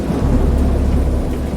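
Low rumbling thunder rolls continuously beneath steady rain during a storm at sea, loud and close, with no voices over the dense wash of sound.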